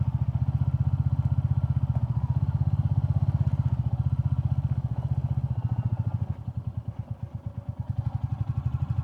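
A Royal Enfield Classic 350 motorcycle rides over a bumpy gravel road, its single-cylinder engine thumping loud and steady with a brief dip in revs and faint clattering over the surface.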